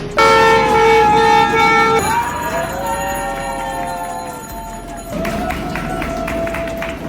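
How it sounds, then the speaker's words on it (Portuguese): A horn blares in an office to mark a sale, sounding loud and close in several long sustained tones whose pitch changes between blasts. "o escritório é uma loucura, a gente buzina toda hora"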